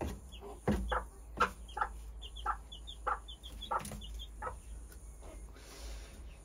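A mother hen clucks with her small bantam chick nearby, a series of soft, rhythmic clucks at a moderate distance, with faint high peeps over a quiet outdoor background.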